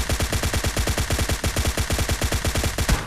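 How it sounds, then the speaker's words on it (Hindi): Rapid shotgun fire in an online shooter game, a fast string of sharp, punchy blasts about eight per second, loud and close, continuing for several seconds. "इतनी दूर से भाई शॉटगन चला रहे हैं"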